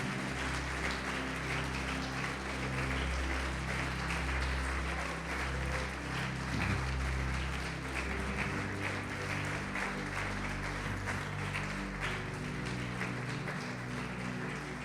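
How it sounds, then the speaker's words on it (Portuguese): Church congregation applauding loudly during a worship service, a steady sustained wash of clapping over a low droning organ or keyboard tone, continuous for the whole stretch with no break. "Vamos aplaudir bem alto, Senhor Jesus."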